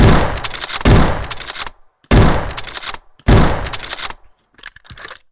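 Loud gunfire in the shooter game Bad Business, three close bursts of rapid consecutive shots separated by short silences, followed by fainter scattered clicks.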